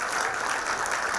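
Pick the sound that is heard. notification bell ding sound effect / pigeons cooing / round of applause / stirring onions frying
round of applause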